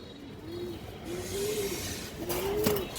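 Red female pigeon cooing in a few soft, rolling phrases repeated at intervals, fairly close, over a faint background hiss.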